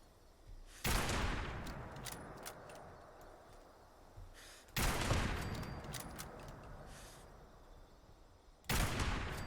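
Three loud, widely spaced gunshots in the video game Fallout 76, each a sharp blast trailing off into a long echoing decay, with quiet background sound between them.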